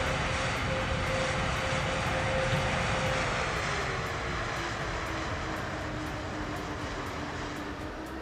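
Aircraft engines on a jet taxiing in Microsoft Flight Simulator 2024, a steady droning whine with a faint tone that slowly falls in pitch, holding an even, moderately quiet level throughout.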